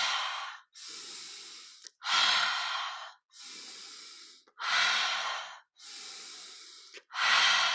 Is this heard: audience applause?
no